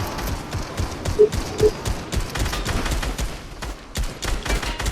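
Rapid bursts of game gunfire crackle in dense, repeated volleys, loud and close, with short pauses between strings of shots.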